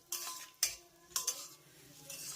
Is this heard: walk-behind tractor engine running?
no